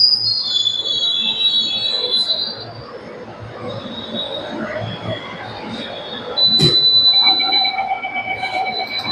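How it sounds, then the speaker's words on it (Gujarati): A metro train arrives at a station, with steady rail rumble and long, high wheel squeals, a brief sharp clank, and a bright electronic tone toward the end. "ટ્રેન આવી ગઈ છે."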